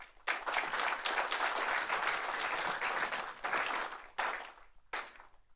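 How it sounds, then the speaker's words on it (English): Audience applause for the community at a press conference on the Kerr County flood relief fund, a dense burst of clapping from a crowd that holds steady, then breaks off into a few short trailing bursts. "Can we give our community a round of applause,"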